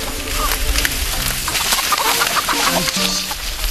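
Chickens clucking busily in a farmyard chase, with dense, continuous noise and rustling throughout and some voices mixed in.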